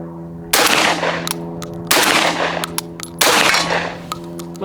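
A Benelli M4 shotgun, a USMC M1014 clone, fires three Red Star shells at a steady pace, each a sharp, loud blast with a ringing tail, plus small metallic clicks between shots.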